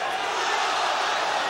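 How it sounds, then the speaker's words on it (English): A live arena crowd at the UFC 8 bout between Gary Goodridge and Jerry Bohlander roars in a steady, dense wash of cheering, loud and continuous with no pauses. "The crowd is cheering everything that Goodridge throws."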